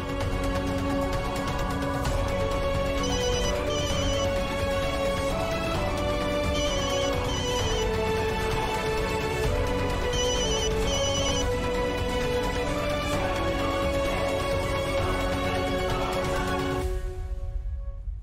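A mobile phone ringtone plays a looping electronic melody, loud and continuous for about seventeen seconds, and then cuts off abruptly with no talking.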